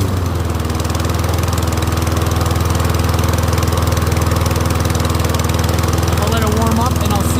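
A Troy-Bilt rear wheel propel lawn mower engine runs loud and close at a steady idle, with an even throbbing drone and no change in pitch.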